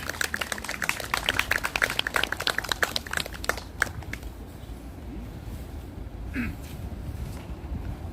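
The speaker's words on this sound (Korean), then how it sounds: "박수로 모시겠습니다" Memorial gathering audience clapping to welcome a speaker, a burst of distinct claps that thins out and fades after a few seconds, leaving quiet room noise and a faint voice.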